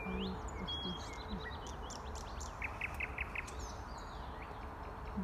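Small birds sing outdoors, with faint, thin chirps and a quick run of repeated tweets over a soft, steady background hiss.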